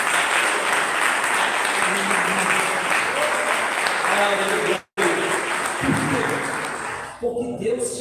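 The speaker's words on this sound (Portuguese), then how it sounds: "Então vamos aplaudir o Senhor." A church congregation applauds during a sermon, sustained clapping that fills most of the stretch, broken by one brief gap and thinning near the end as a voice speaks.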